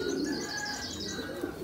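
Pigeons on a pigeon farm coo softly in low, rolling calls, mixed with small chirps, heard fairly close and without talk.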